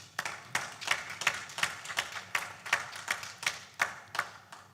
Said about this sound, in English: the team deserves a round of applause